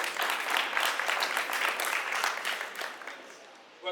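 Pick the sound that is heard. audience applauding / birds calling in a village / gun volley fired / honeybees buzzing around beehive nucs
audience applauding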